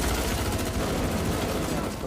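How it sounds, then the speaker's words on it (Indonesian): A film shootout with gunfire and an explosion rolls on as dense, continuous, loud rattling bursts over a low rumble, with narration running beneath. "Baku tembak hingga ledakan pun terjadi."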